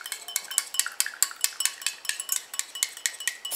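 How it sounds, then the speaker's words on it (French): A utensil stirring a water phase into an oil phase to make a homemade anti-aging cream, quick rhythmic clinks and scrapes against a bowl, close and steady with no talking. "j'incorpore ma phase aqueuse tout en mélangeant"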